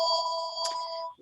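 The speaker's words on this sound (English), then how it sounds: "Sorry for the phone call." A telephone ringtone rings once during a city council meeting, a clear electronic tone with steady pitched notes lasting about a second, heard alone and fairly faint before cutting off.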